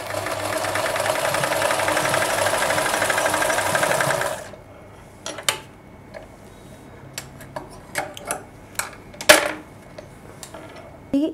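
Sewing machine running steadily as it stitches a tuck on a blouse, a continuous close whirring hum for about four seconds, then stopping, followed by scattered soft handling clicks and rustles.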